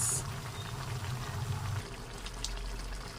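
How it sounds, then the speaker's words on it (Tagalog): Canned sardines added to papaya sautéing in a pan, giving a steady wet sizzle and bubbling with a soft splash near the start, close and unbroken, with no voices. "Malambot na ang papaya, kaya ilagay na natin yung sardinas."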